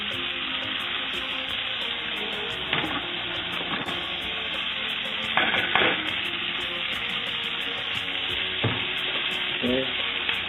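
Onions frying in a pan at medium-high heat as the first step of a chicken curry: steady, close sizzling throughout, with occasional stirring scrapes and clicks of a utensil, no talk.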